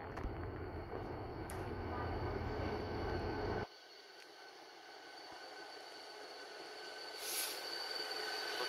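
A Korail Mugunghwa passenger train from Pohang to Suncheon, hauled by diesel locomotive 7454, rolls into Hallimjeong station with a loud, steady rumble. The rumble drops off abruptly partway through, leaving a quieter hum and a brief high squeal near the end.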